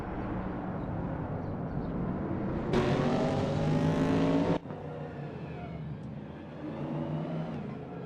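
Racing car engines drone and rev in a racing video game featuring a vintage 1968 Chevrolet Camaro, a steady engine roar with a louder, higher-pitched burst of acceleration in the middle.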